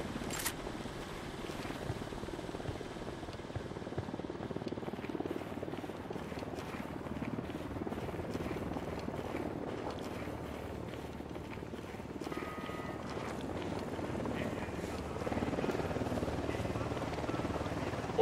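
Enemy Unidad helicopter in the video game Ghost Recon Wildlands, a steady rotor drone continuing throughout at moderate level, with some game noise mixed in.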